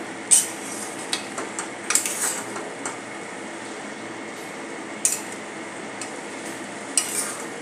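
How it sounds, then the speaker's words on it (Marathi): Spoon stirring sugar into carrot halwa in a pan, a soft continuous scraping with a few sharper clinks of utensil against metal, close and alone with no talk. "अशा प्रकारे आपण ही साखर मिक्स करून घेतोय"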